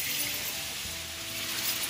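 Beef broth poured a little at a time into a hot roux for meatball gravy, giving a continuous close hissing sizzle with a faint stirring undertone and no speech.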